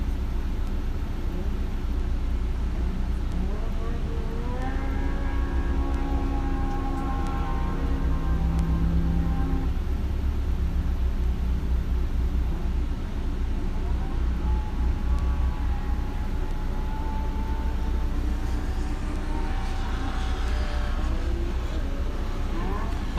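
Off-road race vehicle engines droning and rising in pitch on a dusty qualifying course at the 2023 Buffalo Chip 100, a steady rumble heard under commentary.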